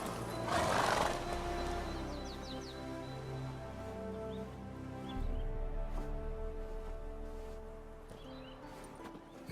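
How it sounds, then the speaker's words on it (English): A horse in a video game whinnies loudly at the start, followed by hoof clip-clops and a bed of game music and ambience throughout. "Whoa there, Roach."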